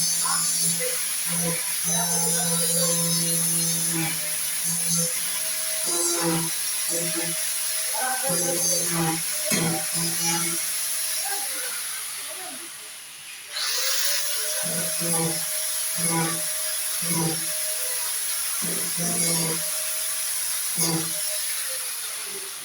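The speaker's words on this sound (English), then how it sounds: "He's grinding a couple of nail heads there." A power grinder grinds down protruding drywall screw heads during a house renovation in Ormoc City, Leyte, Philippines, giving repeated short buzzing bursts of varying length against a steady high hiss, with brief pauses between passes.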